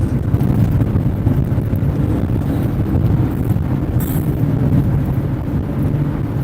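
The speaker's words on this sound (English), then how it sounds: "I feel the wind. You can hear the wind." Steady, loud wind buffeting and low road rumble inside a vehicle driving uphill on the Grapevine in California, a continuous roar with no pauses.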